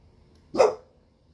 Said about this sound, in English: Dog, that's quite enough barking.